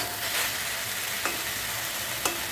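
Pui shak greens with potato, carrot, pumpkin and stalks are stirred in a pan, giving a soft, continuous sizzle with a couple of sharp scrapes of a spoon against the pan.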